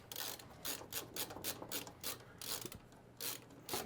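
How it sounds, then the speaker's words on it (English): An LTT ratcheting screwdriver drives screws into a CPU cooler inside an iBuyPower tower, giving rapid, quiet, close-up ratchet clicks in repeated bursts with no talking. "I'm using my LTT screwdriver"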